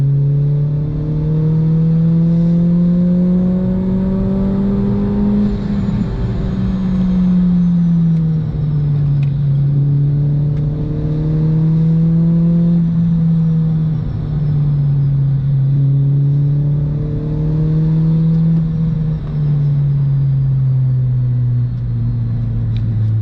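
A supercharged Honda Civic engine pulls hard on a canyon run, loud and close, its tone climbing and falling in repeated waves through gear changes with a constant road rumble.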